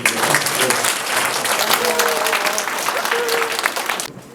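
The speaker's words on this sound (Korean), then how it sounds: "박수 보내주시죠" A crowd of residents applauds at a neighborhood community center meeting in Hongeun 2-dong, a dense, steady burst of clapping lasting about four seconds before stopping abruptly, with a few faint voices mixed in.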